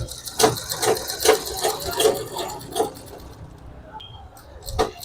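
A sewing machine stitches a suit lining in short, rhythmic bursts of close mechanical clatter, with someone talking over it.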